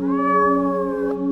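A cat gives one loud, sustained, tonal meow lasting over a second, close and alone.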